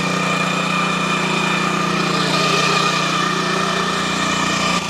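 A Sraja power weeder with a back rotary and 10 HP diesel engine runs steadily and loudly throughout, a continuous mechanical drone with dense harmonics and no speech over it.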